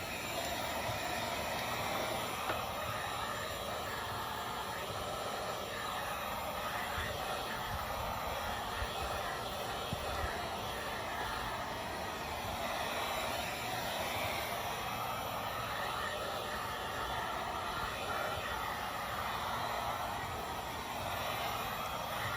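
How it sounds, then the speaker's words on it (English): A heat gun blows onto a leather car seat with a constant, fairly quiet airy whirring drone that holds steady throughout and has no talking over it. "So just be careful if you're using a heat gun"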